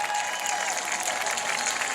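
A speedway crowd applauds the race winner, Casey Hawthorne, as he climbs out of his car, steady dense clapping with some crowd noise at a moderate distance.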